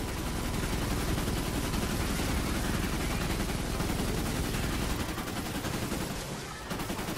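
Enemy gunfire in Fortnite Save the World rattles on as rapid, continuous automatic bursts, loud and dense, easing slightly toward the end.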